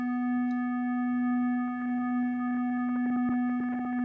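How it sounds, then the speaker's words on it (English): Generation Loss MkII lo-fi pedal in reel-to-reel mode, with the failure control turned up, sustaining a single steady synth note while faint crackles and pops scatter through it, more of them toward the end. "you can hear it just kind of messes it up a little bit. There's just some cracks and pops and things like that."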